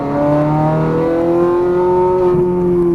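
A Ferrari F430 Scuderia accelerating hard on a race track, a loud, close engine roar climbing steadily in pitch under full throttle, then easing slightly at the very end.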